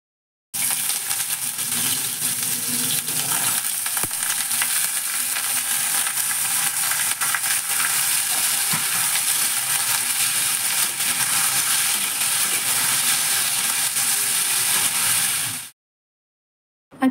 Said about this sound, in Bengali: এখানে আমার আলু ভাজাটাও হয়ে গেছে